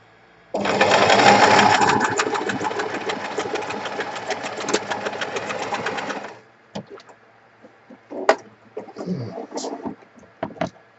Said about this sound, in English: And we're going to machine sew that.